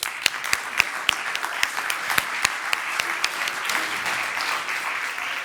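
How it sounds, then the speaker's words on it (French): Audience applauding at an engineering school graduation ceremony: a loud, close crowd clapping continuously, with several sharp nearby claps standing out over the steady roar. "Je vous demande de l'applaudir."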